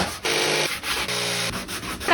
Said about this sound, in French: Moi, pendant ce temps, ponce.